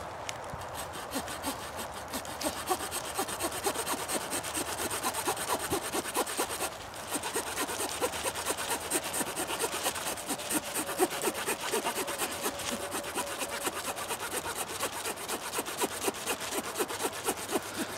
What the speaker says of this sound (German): mal schauen, wie die Säge das Ding so handelt.